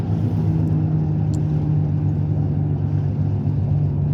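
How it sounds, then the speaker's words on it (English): Steady car engine and road rumble from inside a moving car cruising on the freeway, a continuous low drone with constant tire noise and no talking. "Driving down the freeway."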